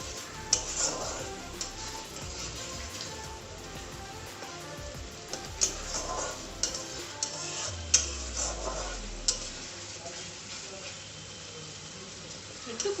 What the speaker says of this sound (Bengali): একটু কষিয়ে নিই, জল দিয়ে দেবো।